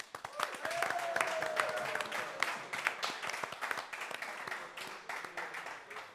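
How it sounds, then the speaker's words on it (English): An event audience applauds the sponsors, a dense wash of clapping that rises quickly and holds steady, with a brief voice or whistle near the start. "big round of applause"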